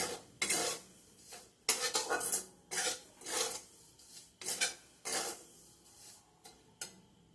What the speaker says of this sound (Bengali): সুজিটা আমি শুকনো কড়াইয়ে 1-2 মিনিট মতো ভেজে নেব।